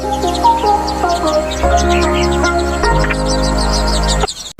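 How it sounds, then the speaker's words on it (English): Many high, thin chirps of bird chicks being fed overlap in a busy chorus, close and steady, with soft tonal calls threaded through a constant low hum. "Here's a bird feeding its young ones."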